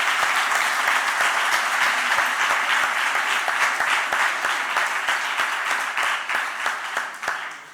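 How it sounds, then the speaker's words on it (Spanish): Sustained applause from a seated audience at a historical memory conference panel in Spain, honoring a victim named Mari Castilla; dense steady clapping throughout, tapering slightly toward the end, with no voices. "un aplauso para Mari Castilla"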